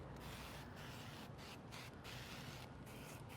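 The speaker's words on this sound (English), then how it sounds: "you can add a little bit of spray oil or fat to the back to help it stick" Duck fat sprayed from a can onto the back of baby back ribs, a steady close hiss running throughout with brief dips in the high spray noise.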